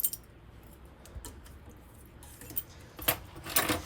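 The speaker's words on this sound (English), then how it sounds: "Right here are your keys." Keys for the main and baggage doors of a 2020 Jay Flight SLX 195RB travel trailer jangle close by in short bursts of metallic clinks, quiet at first and then louder and busier near the end, with no talking.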